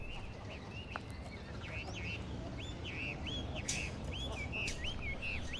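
A Chinese hwamei songbird sings repeated looping, whistled phrases in a communal garden, clear and fairly close, over a steady low background rumble, with a couple of brief sharp calls mixed in.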